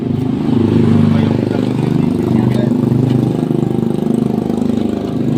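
Air compressor engine with a muffler idling close by, a steady low throbbing rumble with an even pulse and no breaks, while a voice speaks briefly over it.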